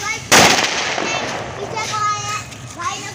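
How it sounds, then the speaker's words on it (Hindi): A bullet bomb firecracker bursts at a Chhath puja celebration with one sharp loud bang near the start, followed by lingering rumble while people and children talk nearby. "ये भाई हमारे बुलेट बम फोड़ते हुए"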